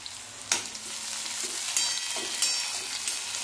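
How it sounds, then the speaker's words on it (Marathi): Onion with red and green chillies and garlic paste frying in a pan over lowered gas, a steady close sizzle with a few soft stirring scrapes, no voices. "कांदा असा तांबूस होईपर्यंत आपल्याला भाजून घ्यायचा आहे"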